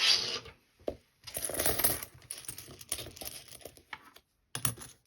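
Two British £2 coins handled and clinking, a few sharp metallic chinks and slides in a quiet room, close and fairly loud with pauses between.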